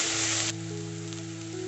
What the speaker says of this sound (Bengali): আদা দিয়ে দিচ্ছি, রসুন দিয়ে দিচ্ছি, এবার এগুলোকে একটু ফ্রাই করে দেবো।